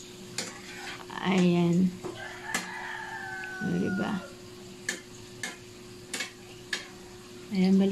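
A shrimp omelette sizzles and bubbles steadily in a pan, heard under occasional nearby talking with a few sharp clinks and a rooster crowing in the distance.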